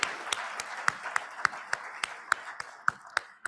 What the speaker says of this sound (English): Please, round of applause for the Omni Las Colinas Hotel.